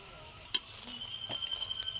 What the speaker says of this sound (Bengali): এবার রুটিগুলোকে দিয়ে দিচ্ছি একটু গরম করে নেওয়ার জন্য।